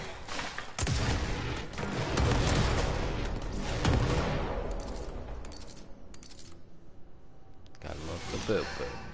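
A grenade launcher fires in a video game, with rapid explosive booms and crackling blasts rolling for several seconds, fairly close and heavy, while a voice talks over the action.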